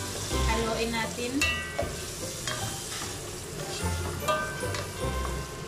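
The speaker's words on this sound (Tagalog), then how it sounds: "Halo muna natin yung ating onion. Ayan na siya. Haluin natin." Onion frying in a pan crackles steadily while a spoon stirs it, scraping and knocking against the metal in irregular strokes. The sound is close and moderately loud.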